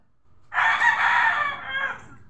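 A rooster crows loudly and close by among chickens, one sustained call lasting about a second and a half over a faint low background.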